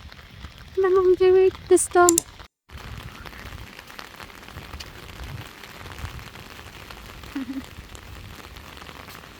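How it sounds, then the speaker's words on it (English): Steady outdoor rain gives a broad, even hiss that continues for several seconds, after a short burst of voice at the start. "It's raining."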